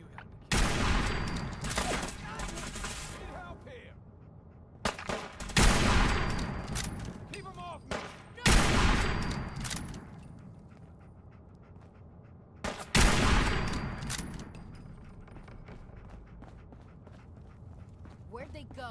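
Gunfire from the video game Fallout 4, several loud bursts of shots and explosions in separate clusters with decaying tails, mixed with game sounds and voices between the volleys.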